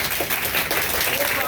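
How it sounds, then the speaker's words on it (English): Dense applause fills a crowd at a girls' fire camp event held by a city fire bureau, steady broadband clapping from many hands throughout with voices mixed in. "give her a round of applause"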